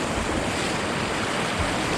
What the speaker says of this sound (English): The next set of rapids is called Crybaby